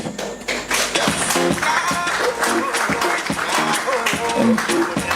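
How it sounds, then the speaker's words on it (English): An audience at a student council handing-over ceremony claps for the outgoing executives, with dense, steady applause and scattered sharp claps lasting several seconds, loud and close. "give a round of applause to all the outgoing executive"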